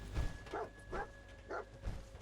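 The dog companion in Fallout 4 gives four evenly spaced barks at close range against low background game noise.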